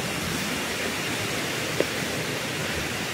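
Broadband rushing water flows steadily near a living root bridge in Riwai village, Meghalaya, a continuous close hiss with no pauses and one small knock partway through.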